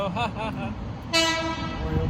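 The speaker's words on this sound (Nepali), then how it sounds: "हाम्रो ट्रेन आयो ल। फाइनली आयो, छिन गर्दै आयो ल, डेन्सा आयो ल" A local train pulling into a station in Nagasaki, with short horn toots and rumbling carriages nearby and a sharp burst partway through, amid background station noise.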